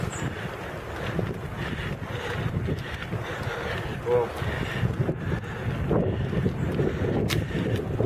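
Strong, steady wind roars and buffets the microphone throughout on a sailboat at sea near Sant Antoni, with a low rushing rumble and faint voices mixed in.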